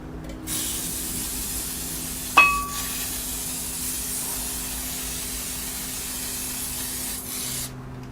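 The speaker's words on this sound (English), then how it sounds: "we're going to spray our pan, okay, with non-stick" A quiet room, then a sharp hissing burst of non-stick cooking spray onto a pan, followed by a short fading hiss and a steady low hum.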